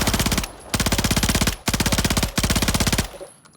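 Automatic gun fire in Warzone, three rapid bursts of close, loud shots separated by brief pauses, each burst about a second long, with no talk.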